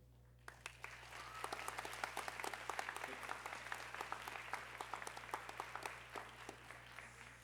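A school honors and awards ceremony audience applauds, dense steady clapping from many hands that starts abruptly and carries on for several seconds, with a low hum beneath.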